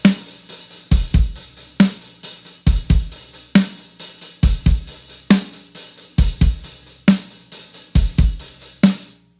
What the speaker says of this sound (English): He plays 16th notes with his right hand on the hi-hat.